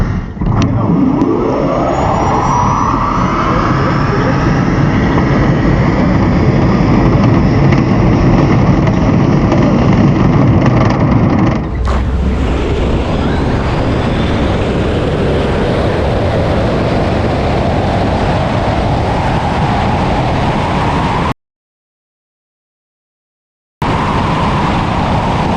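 Dodge Demon 170 and Tesla Plaid in a quarter-mile drag race, a loud, sustained engine roar rising in pitch under acceleration, then a steady high-speed rush with a brief dropout near the end.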